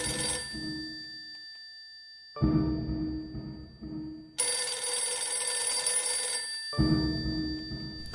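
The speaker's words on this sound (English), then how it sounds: "I think the phone is ringing." A telephone bell rings as a radio drama sound effect, in two loud bursts of trilling rings separated by brief quiet gaps, close and clear with no talk over it.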